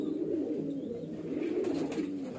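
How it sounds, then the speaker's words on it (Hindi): Female pigeon of Rampuri lineage from a home highflyer loft, cooing in low, soft, rolling murmurs repeated steadily, close and fairly quiet, with no talk. "ये भी हमारे घर के कबूतरों में से निकली है और इसमें रामपुरी कबूतर लगाए हुए हैं हमने"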